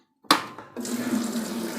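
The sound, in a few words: single phase submersible pump switched on, water flowing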